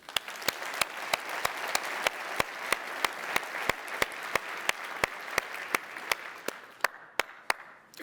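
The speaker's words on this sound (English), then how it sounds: "Please join me in giving them a round of applause." A demo day audience gives a round of applause, dense steady clapping from a crowd at moderate distance, overlaid with a regular train of sharp individual claps, tapering slightly at the end.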